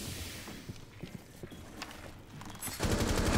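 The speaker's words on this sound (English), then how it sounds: "Come on, Noski, just pull your pistol, one tap this guy." Gunfire from pistol shots in the video game Gridlock: a string of quick, sharp shots at an uneven rhythm, ending in a louder, denser burst.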